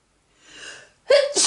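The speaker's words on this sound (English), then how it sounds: "getting a sneeze" A single sneeze bursts out after a soft breathy intake, short and close, with no other sound around it.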